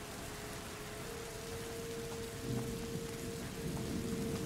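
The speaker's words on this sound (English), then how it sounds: "Oh, it's raining." Steady rain falls in A Plague Tale: Innocence, a dense hiss with soft rumbling swells that may be distant thunder, fairly faint, with no talk.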